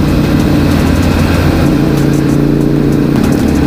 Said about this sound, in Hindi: इनके पास है इंटरसेप्टर, मस्त आवाज है इसकी भाई।